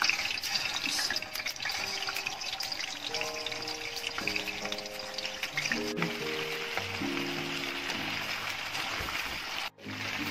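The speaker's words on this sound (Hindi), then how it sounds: "चिकन फ्राई करने के लिए 2 कप ऑयल डाल, ऑयल गर्म हो गया, अब इसमें चिकन डाल दें।" Chicken frying in about two cups of hot oil, a steady close sizzle and bubbling hiss that stays even throughout, with no speech.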